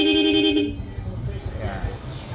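A Kawasaki Barako motorcycle's aftermarket Seger horn gives a loud, bright, steady toot lasting under a second, then cuts off, leaving low background engine noise.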